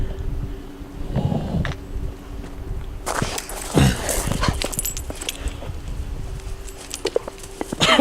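A hyper dog dashes around outdoors. Its paws scramble and thump, and it bumps into things with sharp knocks and rustles at moderate loudness. Nobody speaks.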